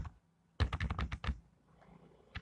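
A burst of about eight fast, crisp computer keyboard key presses in quick succession, then quiet, with one last isolated tap near the end, close and fairly clear.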